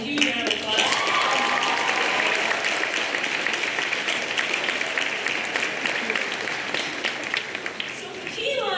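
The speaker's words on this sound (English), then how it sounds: "I just want to give Noreen a huge round of applause" A school senior awards night audience gives a student a sustained round of applause, dense and steady clapping that fills the hall for the whole stretch and tapers slightly at the end.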